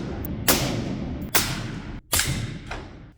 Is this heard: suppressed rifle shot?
yes